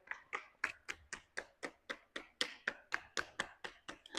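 Hands knocking rhythmically on the legs during a myofascial release yoga practice: about sixteen crisp, evenly spaced taps at a brisk, steady pace, close and fairly soft, with no talk.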